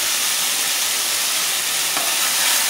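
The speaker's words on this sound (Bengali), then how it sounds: "মশলাটাকে ভালো করে ভেজে নেব।" Ground garlic, cumin and dried chili paste with salt and turmeric frying in a pan for an egg and eggplant dish, a loud steady sizzle held throughout with faint stirring underneath.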